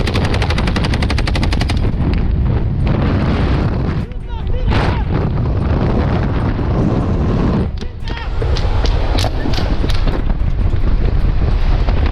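Sustained automatic gunfire crackles almost nonstop in a cartel gun battle against a Mexican Army cavalry convoy on a road in the Fresnos neighborhood of Nuevo Laredo, with dense bursts, sharp cracks and brief lulls, loud and close amid wind buffeting.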